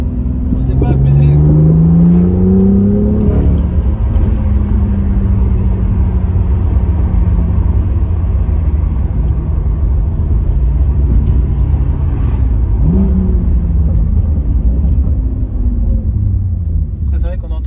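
A BMW M2 engine revs and rumbles, with a few rising pulls and light exhaust pops and crackles as it comes off throttle, steady and loud from inside, while people talk over it.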